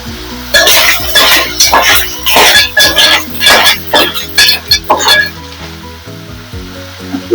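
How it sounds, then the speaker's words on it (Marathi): Onions sautéing in a pan for a Malvani-style clam curry, a loud close sizzle broken by repeated scraping stirs in an uneven rhythm, with a steady low hum underneath before it quiets near the end. "कांद्यामध्ये छान परतवून घ्यायचं ह्या"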